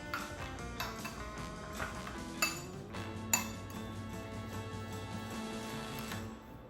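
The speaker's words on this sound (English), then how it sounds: "We're gonna mix this all together" Quiet, scattered clinks and light metallic taps of a utensil against a bowl as ingredients for finger foods are mixed together, a few sharper pings standing out over a faint steady background.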